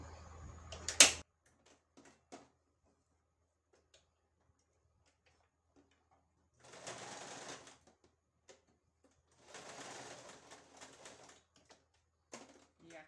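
A sewing machine stitches and backstitches while making a holder for bowls, running in two short, quiet bursts separated by pauses, with faint clicks between them.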